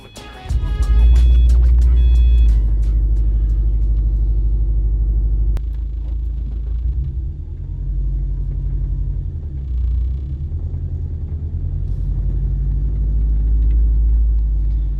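Steady low engine rumble of a 2008-2014 Subaru STi with a Kartboy short shifter cruising on the road, heard from inside, with road noise rising and falling; no talking.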